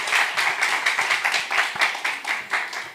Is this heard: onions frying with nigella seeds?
no